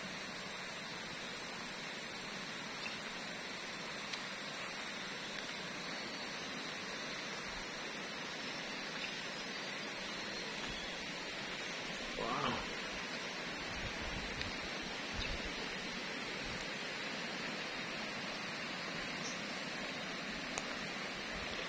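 Water current flows steadily at a natural spring, a soft, continuous rushing wash that stays even and unbroken throughout, with no talk.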